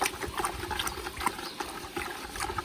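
Pond water from a DIY koi pond being stirred and mixed by hand in a bucket, a soft continuous sloshing and trickling nearby with no talk.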